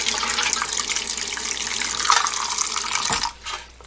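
Tap water runs steadily into a sink as soaked rice grains for sikhye are rinsed, a loud continuous splashing rush that cuts off abruptly near the end, leaving a brief quieter trickle.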